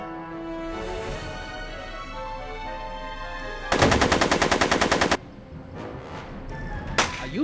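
Rapid gunfire in the Back to the Future video game set in 1986, a loud burst of fast repeated shots lasting about a second and a half, framed by sustained game music and a few sharp whip-like hits.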